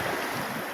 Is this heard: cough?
no